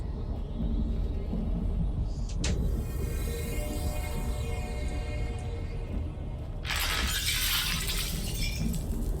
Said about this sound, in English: Admittedly, smashing the trees is pretty cool.